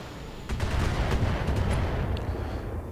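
Missiles and weapon fire from battling mechs in a video game, a dense rumbling barrage of rapid blasts that starts abruptly and holds loud for a couple of seconds before easing slightly.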